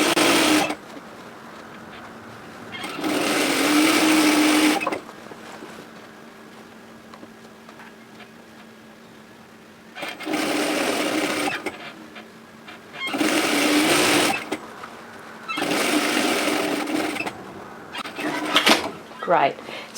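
A sewing machine runs in several separate bursts, stitching the seam of a lined tote bag with the handles tucked inside, each run lasting a couple of seconds with quiet pauses between.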